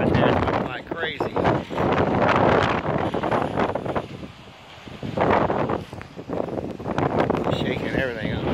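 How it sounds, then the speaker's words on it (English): Strong gusts from Hurricane Irma batter the microphone in the northwest Florida Panhandle, a loud, roaring buffet that surges, dips briefly and then swells again in waves of rushing air. "It's kicking up the wind here in northwest Florida."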